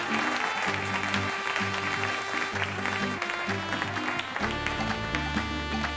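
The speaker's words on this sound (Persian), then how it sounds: "آقای جان احمدی رو تشویق کنیم" Audience applause during a comedy talent show, a fairly faint but steady wash of clapping lasting several seconds beneath a sustained musical tone.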